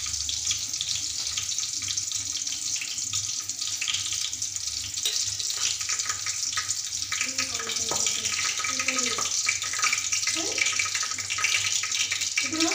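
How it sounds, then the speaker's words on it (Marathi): Onion cooking in a pan for a village-style Marathi curry, a steady broad hiss throughout with faint occasional clinks, no speech. "तर आपला कांदा छान असा मस्त शिजायला सुरुवात झाली आहे।"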